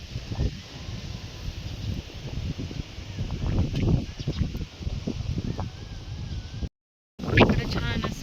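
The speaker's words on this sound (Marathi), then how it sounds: "पाऊस येईल लगेच, वारं सुटलंय." Strong gusting wind buffets the microphone in an open rural spot before rain, with voices talking intermittently over the steady rush and a brief dropout near the end.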